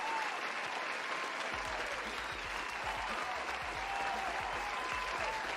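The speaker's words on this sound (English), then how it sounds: "I turned on the cheering by accident." A canned cheering and applause sound effect plays loudly and continuously. It is a dense wash of clapping with crowd noise and no pauses.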